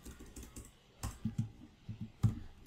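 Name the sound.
typing code on a computer keyboard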